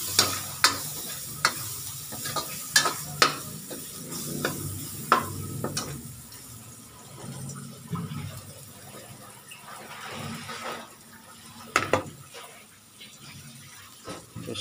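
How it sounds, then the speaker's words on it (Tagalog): Adobo with black pepper sizzles in a pan, a soft, steady frying hiss close by, punctuated by sharp clinks and scrapes of stirring. "Sinasabay na sa pagprito para hindi mahalata na may black pepper"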